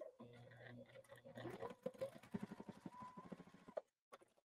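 A sewing machine stitches quilt pieces in one quick, short run: a close, rapid mechanical chatter of needle strokes lasting a couple of seconds, then stopping.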